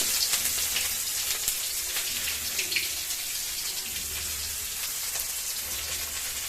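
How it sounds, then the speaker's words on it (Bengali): Chopped onion and green chili frying in a pan with oil, a steady, loud hissing sizzle with crackling pops that continues throughout, with occasional clinks and scraping of stirring. "এবার নাড়িয়ে চাড়িয়ে নিই আর এই পেঁয়াজগুলো যাবে তাই তো এবারে কুচানো লঙ্কা আর কুচানো পেঁয়াজ এইগুলো দিয়ে দেবো"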